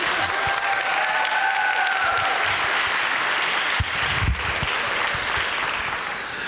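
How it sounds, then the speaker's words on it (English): An indoor audience at the opening ceremony of the CONIFA Women's World Football Cup 2024 in Glasshuset, Bodø, gives the Sápmi team a steady, dense round of clapping that lasts throughout, with cheers briefly rising near the start. "A big hand of applause to the Sápmi team."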